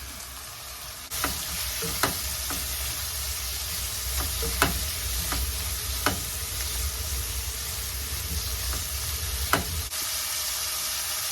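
Carrots fry in a pan of hot oil for an upma breakfast, with a steady sizzle and sharp, irregular clicks and scrapes of a spoon stirring, close up, with no voices.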